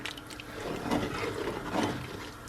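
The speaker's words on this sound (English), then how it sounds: "I'm gonna add a little bit of water to this" Water poured into a pot of cheese sauce for mini ravioli, a soft, quiet trickle and splash that swells twice, heard alone with no talking.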